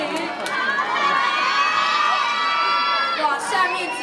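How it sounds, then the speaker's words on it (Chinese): An audience at a children's hip hop dance showcase cheers and screams steadily, with high-pitched shouting from young fans carrying on continuously and a brief burst of louder yells near the end. "那掌声尖叫不要停啊"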